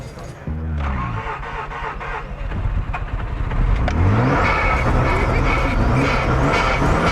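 A car engine cranks and catches on its first start, then revs up loudly and stays close, climbing to a sustained roar. People talk briefly over it.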